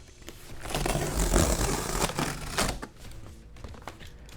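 A blade cuts one side off the cardboard packaging box of a Cuisinart portable propane tabletop gas grill, making a loud, continuous rasping scrape and tear that fades into lighter crinkles.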